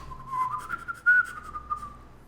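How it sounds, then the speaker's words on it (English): A slide whistle glides up and down in pitch, a single wavering tone heard alone for a couple of seconds. "That's a slide whistle, by the way."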